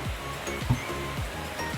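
Water steadily pouring into a bucket used for keeping young catfish, a continuous rushing, splashing wash at moderate level with no break.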